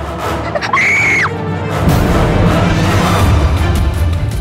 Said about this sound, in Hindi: पड़ोस में कोई चिल्लाया होगा।